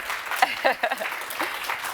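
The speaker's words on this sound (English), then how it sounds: "Give her a round of applause, why not?" A short burst of scattered clapping from a small crowd lasts under two seconds, with voices mixed in.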